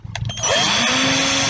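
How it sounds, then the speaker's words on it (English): A small power drill with a very fine bit spins up after a few clicks and whines steadily at high speed drilling household plastic, loud and close. "I've got my drill with a very, very fine drill bit on it."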